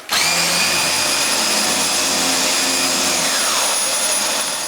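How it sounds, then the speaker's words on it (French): A cordless stick vacuum cleaner whirs loudly and steadily with a high-pitched motor whine, starting abruptly and running on without any voices. "Ça redevient un aspirateur normal."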